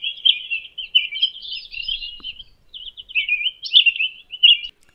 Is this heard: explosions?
no